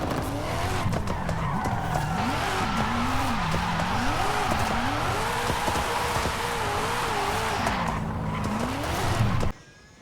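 A 2022 Mazda MX-5 Miata RF driven in the racing game Forza Horizon 5, its engine note climbing and dropping through gear changes over steady tyre and road noise, loud and close until it cuts off abruptly at the end.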